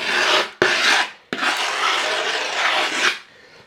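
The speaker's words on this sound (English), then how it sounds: "Let's scrape it up." Several long, loud rasping scrapes sound up close, a tool dragged firmly across a surface to lift material off, with brief pauses between strokes and no talking.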